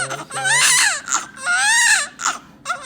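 A newborn baby in a hospital cries loudly and close up in several rising wails separated by short gasps and whimpers.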